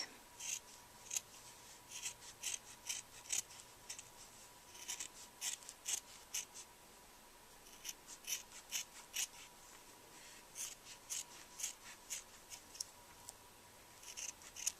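Scissors snipping through paper while cutting out the edges of a paper art mask, a close, quiet series of short crisp cuts in irregular bursts with brief pauses between.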